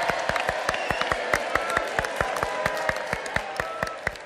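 A studio audience on a Cuban television program claps in a quick, steady rhythm for about four seconds, the beat clear and even over a soft crowd murmur.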